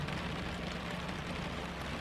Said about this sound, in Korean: 세찬 빗방울이 비닐하우스 천장을 때리는 소리가 커져갔다.